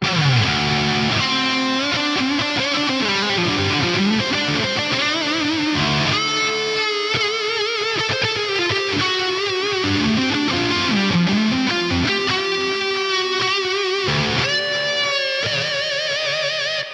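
Heavily distorted electric guitar rings out through a high-gain amp modelled on a Mesa Rectifier, chugging riffs and sustained notes with thick, saturated crunch, a noise gate engaged.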